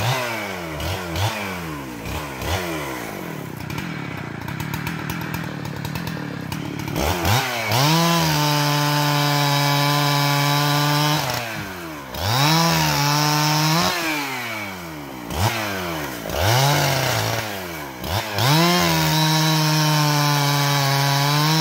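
A chainsaw bucks firewood: bursts of loud revving and bogging as the chain bites into wood, repeated cut after cut with short throttle swells between, close and dominant throughout.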